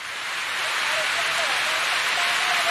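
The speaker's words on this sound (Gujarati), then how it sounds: "ઘઉંમાં તરત વરસાદ આવ્યો છે" Rain falls on a wheat field at harvest time, giving a steady, dense hiss that builds slightly and stays loud throughout.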